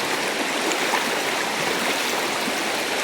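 Fast, strong stream water rushes over slippery rocks at a river crossing, a dense steady roar that is close and loud and continuous, with no voices.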